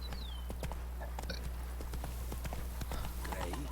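Horse hooves clip-clop at a steady walking pace in The Witcher 3, quiet and even over a constant low game ambience, with faint scattered chirps.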